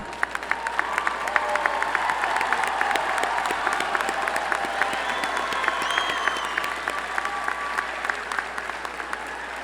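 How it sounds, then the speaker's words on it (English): Sustained applause from a large audience for the graduates' grandparents at a December university arts and sciences commencement ceremony, dense even clapping filling the hall throughout at a steady level. "Will the grandparents of our candidates please stand and receive our applause?"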